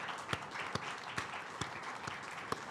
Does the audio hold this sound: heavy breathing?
no